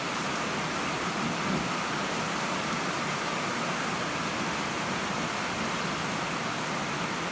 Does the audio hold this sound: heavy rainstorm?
yes